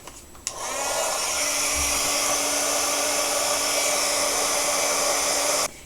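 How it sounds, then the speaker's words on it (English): A heat gun blows on clear embossing powder for a wedding card, switching on with a click into a loud, steady whooshing roar with a faint whine, then cutting off after about five seconds. "you take your heat gun"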